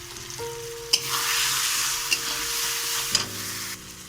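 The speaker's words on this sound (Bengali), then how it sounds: "এইগুলো সব এখানে দিয়ে কষিয়ে নিতে হবে" Salt, cumin, chili and turmeric powder with cardamom, cinnamon and cloves sautéing in a pan, a steady close sizzle broken by a few sharp scrapes of the spoon, with a faint tonal hum underneath.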